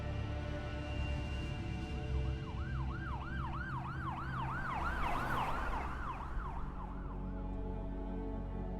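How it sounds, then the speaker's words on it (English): An ambulance siren wails in a steady rising-and-falling sweep over the drone of road traffic. It swells as it draws closer and passes, then fades again, with no voices. "A few minutes later, an ambulance arrived"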